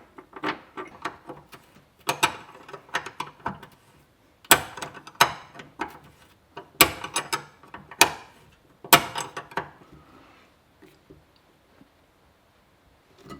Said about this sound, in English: Let's go through here and put the nut on, and then we'll tighten this all down.